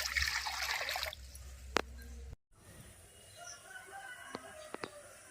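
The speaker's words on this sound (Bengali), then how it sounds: "এক বাটি জল দিয়েছি আর এক বাটি জল দিচ্ছি" Water pours from a bowl into a wok in a kitchen, a close splashing gush that stops abruptly, followed by faint drips and small clinks.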